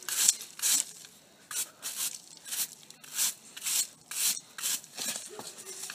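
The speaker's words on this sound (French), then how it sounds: "je passe un petit coup de brosse avant" Brush scrubbing a boot before fitting a back-country hoof glove, about a dozen short, close bristle strokes in an uneven rhythm with brief pauses between them.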